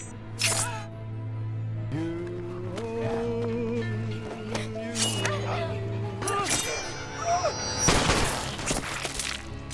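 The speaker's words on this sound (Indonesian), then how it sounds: "Dina langsung menembak psikopat betina itu menggunakan pistol yang dia curi dari sheriff sebelumnya." Several sharp pistol gunshots crack out in a film scene, fired by a woman at a female psychopath with a gun stolen from a sheriff, over tense music with sustained tones and bursts of noise, loud and close.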